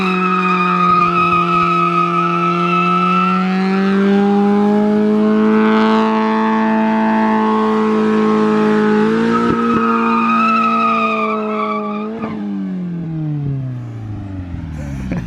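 A Mazda Miata driven hard, its tires squealing and skidding in a long sustained howl while the engine strains, ending in a tapering screech.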